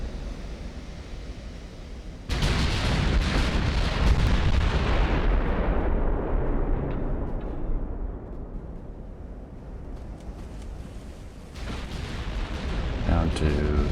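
A salvo from 15-inch double naval turrets in Ultimate Admiral: Dreadnoughts, a sudden deep booming blast that rolls and decays over several seconds before another heavy shot follows, with speech around it.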